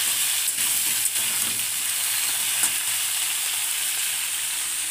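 Potatoes frying with spices in a pan, a loud, steady sizzle filling the whole stretch with faint stirring scrapes and no talking.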